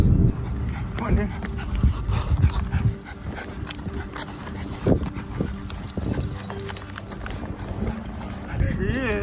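An excited dog whimpers and pants amid scuffling, lively bursts of canine noise rising and falling close by while people talk over it.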